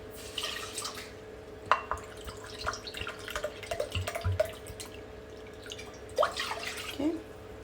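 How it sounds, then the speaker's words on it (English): Water for baklava syrup is poured into a pot in a kitchen, giving irregular splashing and dripping bursts, some sharper splats, close by with quiet background. "Let's start by adding our water."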